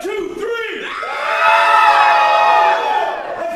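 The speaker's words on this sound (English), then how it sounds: "On the count of three, everybody scream as loud as you can." Theatre audience screaming at full volume on cue at a live show, a loud sustained mass of yells and whoops that swells and holds for a couple of seconds before fading.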